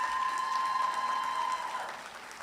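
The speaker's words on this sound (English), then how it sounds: "Give them a round of applause." Brief, moderate applause from a graduation ceremony audience at Excelsior Community College for the graduates, steady clapping over a faint sustained tone that thins out after two seconds.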